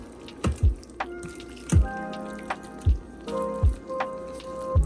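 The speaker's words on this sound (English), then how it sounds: "Let's give it a stir." A spoon works through a pot of Great Northern beans and sausage in an Instant Pot, giving soft, wet squelches and drips that recur irregularly, close and fairly quiet, with no talking.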